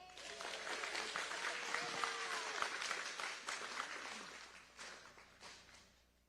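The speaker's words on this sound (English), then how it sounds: "Please give them another welcome or a round of applause with the Hafaday spirit" Sustained audience applause fills a hall at a teacher of the year award show, a dense steady clapping that holds for several seconds and then thins out toward the end.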